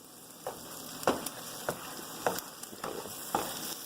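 Eggs frying in a pan of olive oil give a steady close sizzle with a handful of sharper crackling pops spaced through it, no voices present.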